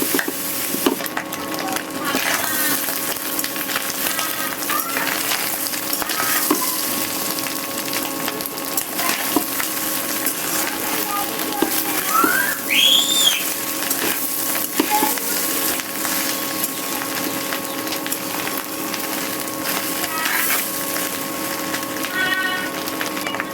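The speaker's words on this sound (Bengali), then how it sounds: "এখন হচ্ছে অনেক সুন্দর করে ভেজে নিতে হবে ডিমটাকে, অনেকটা সময় নিয়ে ভাজতে হবে" Fish roe frying in a pan for a Bengali roe bhuna, giving a steady, close sizzle with scraping stirs throughout and no talk.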